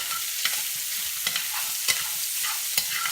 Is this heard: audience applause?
no